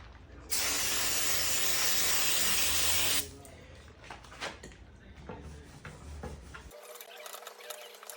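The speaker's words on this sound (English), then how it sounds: "We're just gonna hit this brake cleaner." Brake cleaner sprays from an aerosol can onto a car intake plenum on a 2011-2021 Dodge Grand Caravan or Chrysler Town & Country, giving a loud close hiss of about three seconds followed by light clicks and handling noises.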